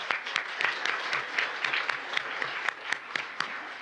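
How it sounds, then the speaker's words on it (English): Audience applause in a commission open meeting room, a modest group clapping with distinct rhythmic claps standing out from a steady patter, moderately faint and sustained. "you're applauding"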